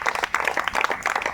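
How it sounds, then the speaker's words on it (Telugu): Quick burst of clapping from a congregation in a church prayer hall, brief, moderately loud, with sharp irregular claps. "గట్టిగా చప్పట్లు కొట్టు."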